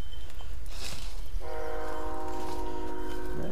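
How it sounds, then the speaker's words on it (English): Distant train horn sounds in long steady tones partway through, with faint rail rumble beneath, heard outdoors at a distance in a quiet rural setting. "I can hear the train in the background."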